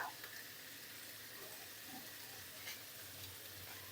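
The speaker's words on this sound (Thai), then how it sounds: "หมูสามชั้นนี้ต้องนาบใส่กระทะอย่างนี้นะคะ" Quiet, steady sizzling of pork belly searing in a frying pan over medium heat, a soft continuous crackle with faint kitchen noise.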